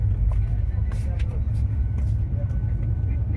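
Steady low rumble of a passenger train travelling fast on a Kerala journey, heard from inside the carriage as a continuous, even drone with faint rattles above it.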